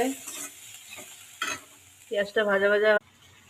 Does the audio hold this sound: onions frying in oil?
yes